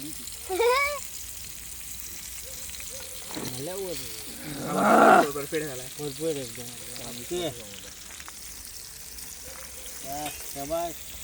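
Chicken frying in oil on a clay roof tile outdoors gives a steady sizzling hiss throughout, while voices talk over it and a louder crackle bursts up partway through.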